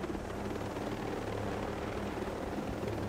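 A helicopter in the video game Ghost Recon Breakpoint drones steadily from start to end, a continuous loud rotor and engine rumble with no voices over it.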